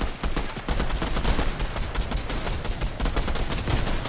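Dense, continuous gunfire from a shooter video game, with rapid overlapping shots filling the whole stretch at a steady loud level and no talk.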